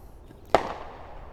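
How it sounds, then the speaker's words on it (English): A single firework bangs once in the distance during an outdoor gathering, a sharp crack followed by a brief rolling echo over faint background noise. "there's the fireworks going off"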